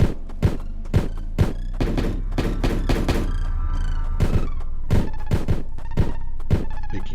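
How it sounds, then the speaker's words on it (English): Loud gunshots crack and thud in the video game Plains of Pain, a dozen or so spaced shots in quick succession with some overlapping, over a low rumbling background. "Oh, no wonder there's so much gunfire going on."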